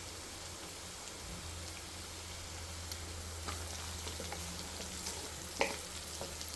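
Beetroot frying in a pan with turmeric, a quiet steady sizzle with a low hum underneath and a few faint clinks and stirring scrapes, one sharper tap near the end.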